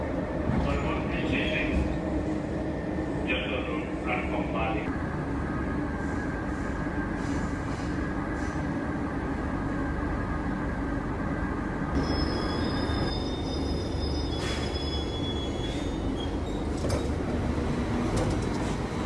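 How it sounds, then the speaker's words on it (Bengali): A Kolkata metro train departs and runs, with a loud continuous rumble of wheels on rail and intermittent high squeals and whines as it speeds along, heard from inside the car. "আর এখান থেকে মেট্রোটা ছেড়ে দিল,"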